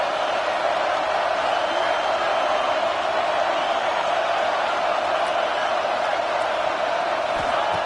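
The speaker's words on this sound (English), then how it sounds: "Third down and the crowd really getting into it." A stadium crowd in an American football video game roars steadily on a third-down play, a dense, constant wall of cheering that holds at an even loudness throughout with no gaps.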